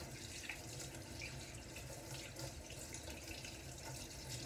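Hands being washed under a running kitchen tap, heard as a steady, close, full rush of water with soft splashing and shifting as the hands move through the stream, and no voices.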